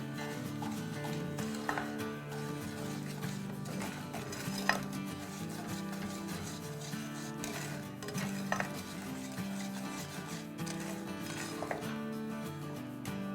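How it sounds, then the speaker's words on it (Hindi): Dry fruits and nuts stirred in a pan on a stove over medium-low heat for homemade granola bars, with steady scraping and clinking of a utensil against the pan and a faint sizzle throughout. "चलें अब हम अपने मेवों को भी हिला लेते हैं"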